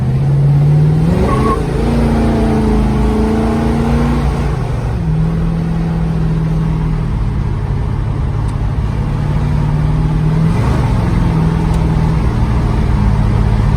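A 1964 Ford Galaxie 500 XL with a 428 engine drives along, its exhaust a close, continuous low rumble that swells and eases as the throttle changes, with no voices.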